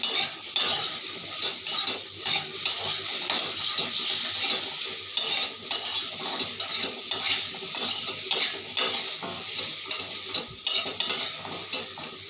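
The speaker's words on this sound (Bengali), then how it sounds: "এবার দিয়ে দেবো হলুদ। এবার একটু ভালো করে নাড়িয়ে নেব।" A utensil stirs turmeric into a sizzling frying pan, with rapid scraping and clinking strokes in a busy, uneven rhythm over a constant close hiss of frying.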